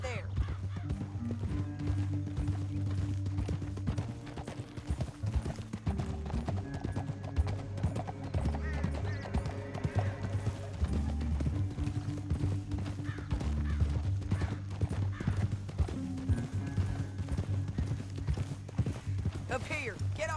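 Horse hooves clip-clop and gallop through a Red Dead Redemption 2 game scene, a steady rhythmic beat carried under continuous spoken dialogue and a low droning musical score, with an occasional whinny.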